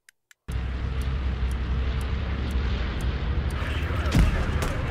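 A heavy bomb blast in the World War II shooter Hell Let Loose, fought at night near Foy, is a deep, sustained rumble that follows two small clicks, then swells with a sharper crack near the end. No one talks over it.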